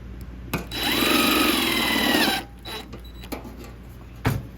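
A power tool whirs for under two seconds, driving a fastener into a custom metal box gutter, with a rising whine and a gritty buzz, followed by a few light clicks and knocks nearby.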